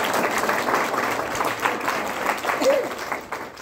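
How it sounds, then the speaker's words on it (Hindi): Audience applause in a university lecture hall during a Hindi Week talk on language in Pune, a moderate wash of clapping from a seated crowd with murmured voices mixed in. "अच्छा लग रहा हो तो एक बार तालियां बजाएं"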